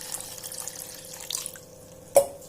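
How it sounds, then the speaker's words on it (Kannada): Water trickles faintly into a pot while a tulsi decoction is prepared, a soft, thin pour with a steady tone, ending in a single brief louder splash near the end. "ಸೊ ಇಲ್ಲಿ ನೀರು ಹಾಕ್ಕೊಳ್ತಾ ಇದ್ದೀನಿ."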